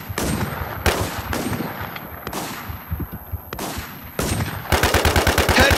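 Gunfire in a shooter video game: repeated sharp shots in bursts, some spaced single cracks and a rapid automatic volley at the end, loud and close with no talk.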